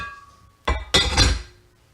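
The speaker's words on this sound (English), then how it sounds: "I have these large containers that I can microwave in." Large microwavable kitchen containers knock together twice in quick succession, a bright clinking clatter that rings briefly close up, then fades out.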